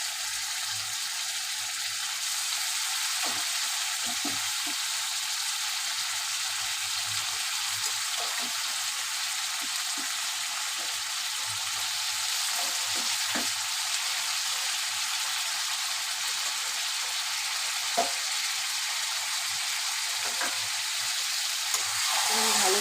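Boiled mutton frying and sizzling in a pan, a steady broadband hiss running throughout with scattered faint clicks and scrapes, no voices.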